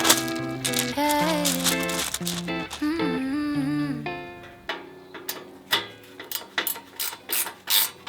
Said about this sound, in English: It's a Phillips screwdriver, not an Allen key.